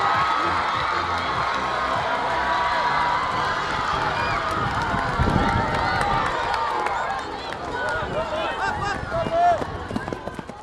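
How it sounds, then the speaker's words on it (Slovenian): Children shout and cheer in a loud, continuous crowd din at a school athletics race, with excited whoops rising near the middle and an announcer-like voice talking over the noise. "Dajmo navijati, dajmo se za svojega."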